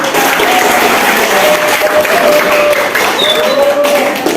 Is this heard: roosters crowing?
no